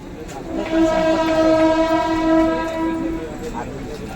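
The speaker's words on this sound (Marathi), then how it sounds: "ती ट्रेन सुटली आहे" A Konkan Railway train sounds a long, loud horn over the rumble of rail cars pulling away, with faint station noise around it.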